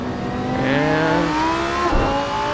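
A Lamborghini race car in the Assetto Corsa video game at Laguna Seca roars at full throttle, its engine note climbing steadily and loudly with a brief gear-change dip.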